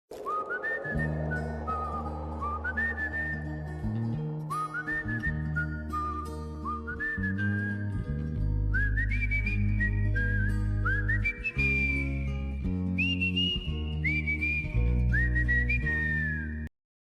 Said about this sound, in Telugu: Whistle. ఈల వేయడం.